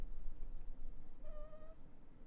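A house cat gives one clear, drawn-out meow over a low, rumbling background with faint muffled noise.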